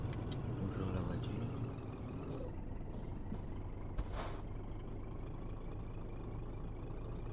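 A truck's air brake hisses in Euro Truck Simulator 2: a steady engine drone runs throughout, broken by a few short, bright bursts of pressurised air, the loudest near the middle of the clip.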